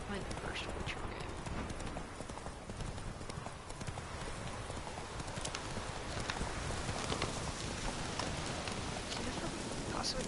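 The horse Roach galloping in The Witcher 3: Wild Hunt, rapid steady clip-clop hoofbeats running continuously over a soft rain-like ambient bed, with some game voice in the background.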